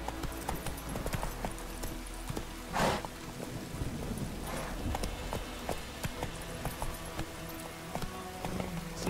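Hooves clip-clop from Roach, Geralt's horse in The Witcher, a steady mid-distance rhythm of hoofbeats over a busy outdoor background hiss, with no voices.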